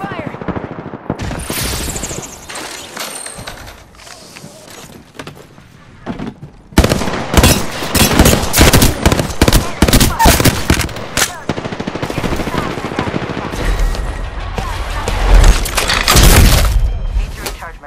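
Rapid automatic gunfire from the Apex Legends battle royale video game, with repeated bursts of shots that grow dense and loud in the second half, along with impacts and a heavy low rumble near the end.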